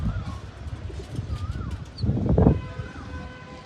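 Soft pigeon coos repeat a few times over a rumbling, noisy background, with a brief flutter of movement midway.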